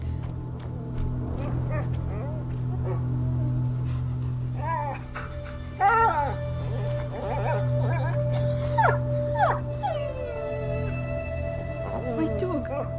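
In the video game A Plague Tale: Innocence, a dog whimpers and howls in thin, rising and falling whines over a steady low hum, with people talking intermittently.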